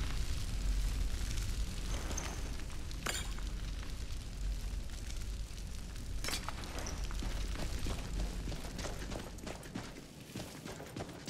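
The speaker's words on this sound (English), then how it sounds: "Probably shouldn't use explosion magic in a mine, but here we are." Explosion magic goes off inside a mine in Skyrim, with a low rumbling roar beneath a couple of sharp bursts and crackling debris, fairly loud and without talk.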